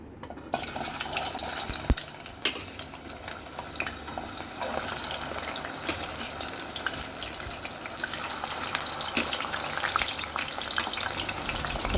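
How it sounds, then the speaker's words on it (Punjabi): Peeled taro root deep frying in oil in a kadai over medium flame, a dense continuous close bubbling sizzle with a sharp clink near the start, steady and loud throughout. "ਤੇਲ ਆਪਾਂ ਜੀ ਪਾ ਲਿਆ ਕੜਾਈ ਵਿੱਚ ਡੀਪ ਫਰਾਈ ਕਰਾਂਗੇ"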